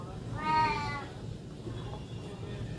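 A white-socked pet cat gives one clear meow near the start, close and moderately loud, with a quiet room afterward.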